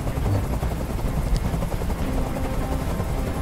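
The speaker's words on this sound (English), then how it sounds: "Tell that helicopter to get out of here!" Helicopter in the video game Detroit: Become Human, a steady loud rotor roar with dense chopping texture filling the whole stretch, no gaps.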